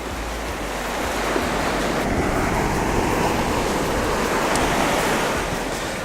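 Ocean waves break around sea rocks in a bay, a continuous loud roar of surf with some wind buffeting the microphone.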